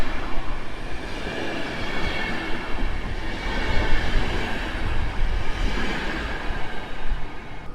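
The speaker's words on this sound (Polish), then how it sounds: "A ta lokomotywa przyprowadziła pociąg ekspres Intercity Tatry." A locomotive hauling the Intercity Tatry express through Warszawa Zachodnia station at night, a loud, continuous rumble of rolling wagons and wheels on rail, steady and close for the whole stretch.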